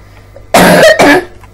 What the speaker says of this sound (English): Sorry about my coughing and stuff.